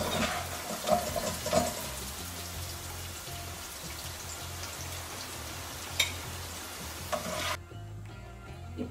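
Onions and chillies fry in hot oil while being stirred, a steady close sizzle with a few sharper scraping clicks of the utensil, heard alone with no talk, for a Singapore-style chicken rice noodle dish.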